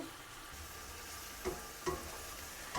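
Onions frying in a pan before shrimp go in for a bitter gourd, potato and shrimp poppy-seed dish, a soft steady sizzle with a few light stirring taps, no talking.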